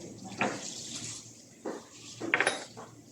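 Ceramic plates and cutlery clink and clatter in short bursts as dishes are wiped dry in a home kitchen, close and fairly quiet, with a few brighter rattles near the end.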